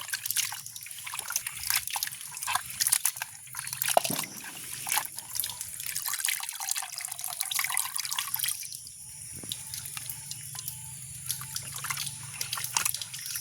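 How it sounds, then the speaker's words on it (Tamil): Water sloshes and trickles steadily as cut meat is washed by hand in a bowl, with small splashes and drips throughout. "இப்போ வெட்டினது பிறகு ஒரு தண்ணியில் கழுவுறோம்"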